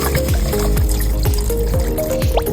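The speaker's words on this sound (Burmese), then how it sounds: "အရင်ဆုံးဆန်ဆေးပြီးတော့ထမင်းကိုလေးတည်ထားလိုက်ပါမယ်" Rice being rinsed in water before cooking: a steady, close wash of pouring and splashing water with small drips, continuous for the whole stretch and with no talking.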